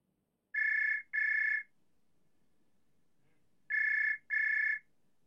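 A telephone rings in two double bursts, each a pair of loud electronic trills with a pause between the pairs, heard alone against a quiet background.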